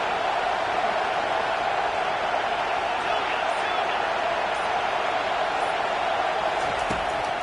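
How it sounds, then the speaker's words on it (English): A football stadium crowd roars in a steady, loud wall of cheering as the noise builds behind the defense on third down. "Decibels rising as the crowd gets behind this defense on third down."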